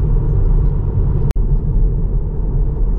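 A Tesla Model 3 driving up a hill, heard from inside the cabin as a steady, loud low road-and-wind rumble with one brief dropout partway through and no talk.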